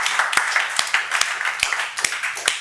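Church congregation clapping in a sanctuary, a steady wash of many hands with sharper individual claps standing out irregularly, moderately loud throughout.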